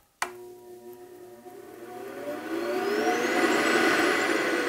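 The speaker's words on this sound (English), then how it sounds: "so you can hear the blower running" A homemade diesel burner's blower switches on with a sharp click, then spins up into a rising whir that grows louder and settles into a steady close roar, no voices present.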